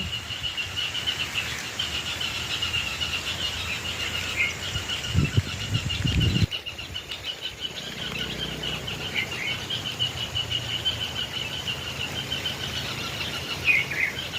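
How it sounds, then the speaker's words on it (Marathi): Sparrows chirp and twitter persistently in the trees at evening, with a brief low rustle midway, over a quiet outdoor ambience. "चिमण्या पाखरांचा आवाज येत असा हे"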